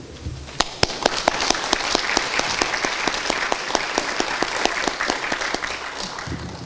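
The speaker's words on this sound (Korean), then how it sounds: "이 민족의 지도자들께 큰 박수를 보내주시기 바랍니다." Ceremony audience applauding surviving independence patriots at a commemoration of the Korean Provisional Government's founding, a dense, steady crowd clapping that fills the whole stretch with sharp individual claps on top.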